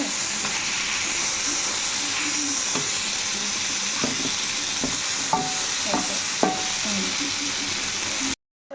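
A pot of Telugu-style fish pulusu stew gets stirred, producing a continuous bubbling, sizzling wash with scattered soft spoon scrapes and knocks up close, then a sudden cutoff at the end.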